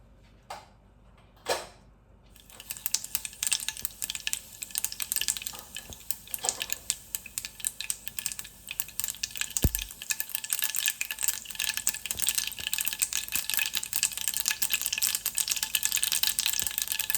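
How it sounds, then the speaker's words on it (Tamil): Dense crackling and popping of mustard seeds spluttering in hot oil, loud and steady after a quieter start, with a few sharp clinks at the beginning. "கடுகு வெடிச்சிட்டு இதுக்குள்ளே"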